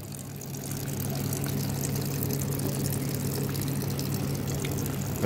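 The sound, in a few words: small waterfall in a terrarium splashing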